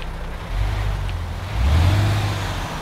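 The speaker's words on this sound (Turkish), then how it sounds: "bu şekilde de motor sesi var." A MAN TGX truck engine in Euro Truck Simulator 2 runs steadily with a low rumble, swelling louder twice as if briefly revved, with no voices present.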